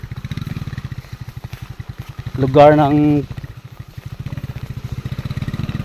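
Motorcycle puttering along a rural farm trail, its engine pulsing in a steady rapid chug throughout, with a brief louder revving burst midway and people talking over it.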